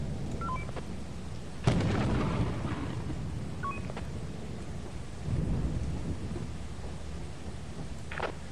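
Rain with a thunder crack in the co-op horror game Lethal Company, a sharp rumbling boom rising over steady rain hiss, with a second softer roll later and a brief electronic chirp near the end.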